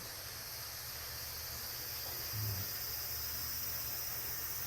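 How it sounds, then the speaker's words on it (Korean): Cicadas drone steadily outdoors during a summer meditation retreat at Yongmunsa temple in Namhae, a faint, continuous insect hiss that holds evenly throughout with no voices. "찌르레기 소리, 매미 소리가 지금 와 있어요."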